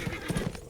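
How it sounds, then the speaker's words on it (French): Horse hooves clopping in the video game A Blind Legend, a quick run of three or four close, hollow hoofbeats with a faint whinny, short and unaccompanied by talk. "Ce cheval est blessé, père."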